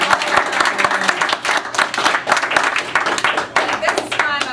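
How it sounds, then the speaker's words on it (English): An audience applauds a contestant at a contestant introduction event, with dense, sustained clapping and some voices mixed in. "Give her a round of applause."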